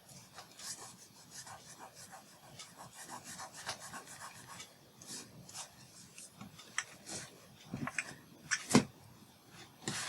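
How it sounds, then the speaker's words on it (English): A razor blade scrapes ink off a surface in close, faint, rasping strokes, building to a few sharper scratches near the end. "I just scraped this all off with my razor blade too"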